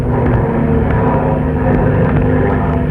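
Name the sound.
airplane engine sound effect in radio drama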